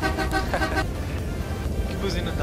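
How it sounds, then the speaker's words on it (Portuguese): Horn of a bus in Euro Truck Simulator 2, several tonal honks sounding in bursts over a low engine rumble, loud and close. "Que buzina da hora."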